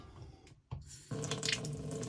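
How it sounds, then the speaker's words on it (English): Water running from a tap inside a Jayco Journey caravan, a steady close hiss of flow that begins after a short pause and carries on evenly to the end. "That's the water running."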